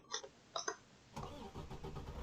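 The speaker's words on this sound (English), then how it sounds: "engine makes noise" A few short electronic beeps, then a truck engine in American Truck Simulator or Euro Truck Simulator 2 cranks and settles into a low, rumbling idle.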